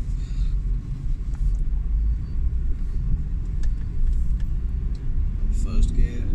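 A Honda Vezel engine idles steadily while stuck in jammed traffic, a continuous low rumble with faint road noise and occasional distant sounds around it.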